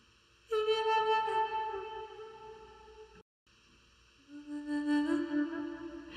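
Quiet music played through an EQ with the high end rolled off, giving two held tonal phrases separated by a brief dropout, muffled and soft.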